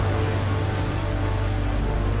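Steady midday rain falls in a dense, even hiss of drops on surfaces, constant and close with no breaks.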